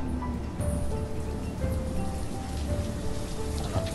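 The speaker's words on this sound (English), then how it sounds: "Oh, and it's raining." Steady rain falls over a settlement in the city-builder Banished, a constant soft hiss with faint scattered drops.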